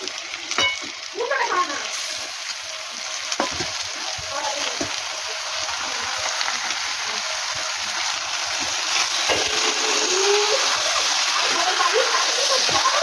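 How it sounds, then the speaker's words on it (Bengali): Mutton sizzles and spatters as it is stir-fried with onion and garlic paste for kosha, with steady frying and occasional stirring scrapes throughout. "এবার আমি মাটনটাও দিয়ে দেবো, এর সাথে কষবো।"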